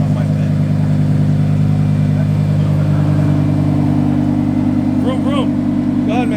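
A supercar engine idles and revs in the cold, a loud steady low drone that builds slightly. Brief chirping sounds come near the end, and no one speaks.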